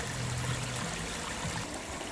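Water from a UV filter flows back into a garden pond in a steady, soft trickle and splash, close and continuous, with no voices over it.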